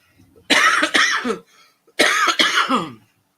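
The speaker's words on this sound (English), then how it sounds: "I'm going to have a coughing fit" Two harsh bursts of coughing, each a rough double cough, loud and close with a short pause between.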